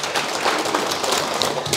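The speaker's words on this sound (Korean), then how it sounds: "미리 박수 치세요" A lecture audience applauds in a steady, dense patter of many hands clapping that holds at an even volume throughout.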